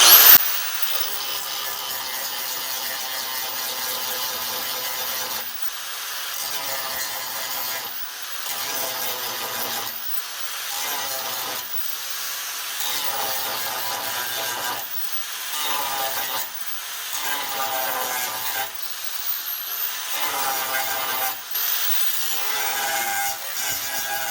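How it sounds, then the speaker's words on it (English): A handheld grinding wheel grinds rusty steel floor and door post panels on a 1948 GMC truck. It makes a harsh, close, rasping whine in repeated pulsing passes, each with brief dips between strokes. "I just take my grinding wheel like this"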